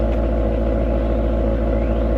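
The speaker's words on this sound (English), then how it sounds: "maybe a little bit of a sound of the car running" A Maserati's engine running during a road trip, heard as a loud, steady low rumble with a regular pulsing hum, close and continuous for the whole short stretch.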